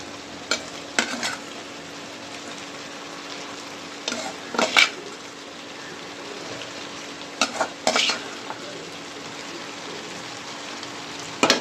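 Pieces of fried fish go one by one into a pan of sizzling curry, with a steady background sizzle broken by several sharp clinks and scrapes of utensil on pan, close and moderately loud, no talking.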